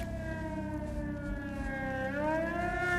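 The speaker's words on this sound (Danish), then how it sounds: "Man starter alle sirener i hele det område, som man nu har valgt at varsle i." Civil defense warning siren sounding across a Danish area, a steady loud wailing tone with harmonic layers that rises in pitch near the end, heard alone.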